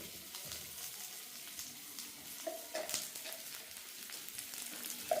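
Onions sautéing with powdered salt in a home kitchen pan give a steady, moderate sizzle with faint scraping stirs, a soft crackle running throughout.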